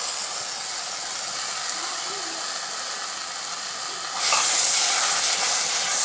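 Tomatoes go into a hot frying pan for a tamarind-based sundakkai kulambu, and a steady bright hiss swells suddenly into louder sizzling partway through.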